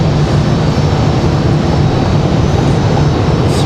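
A United airliner taxiing out at Raleigh-Durham airport, a loud steady broadband engine roar with a low hum, continuous and close, no voices.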